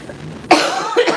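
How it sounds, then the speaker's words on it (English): A person coughs close up and loudly, one sharp cough followed by a smaller second one, after a brief quiet lead-in. "I am starting to get the coughs."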